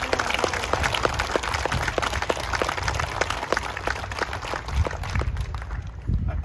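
A 9/11 remembrance ceremony crowd gives the Denair Fire Department a sustained round of applause, with many hands clapping in a dense, even patter and sharp individual claps standing out.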